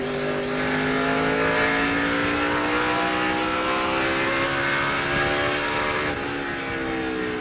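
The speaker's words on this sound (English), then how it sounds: "See Kevin Harvick in the 29 car. He's back in 25th, 4 laps down. We ride with him right here." Onboard a NASCAR stock car at the 2004 Chevy American Revolution 400, a loud, steady V8 engine roar holds at high revs throughout, with a slight pitch shift near the end as the car runs laps.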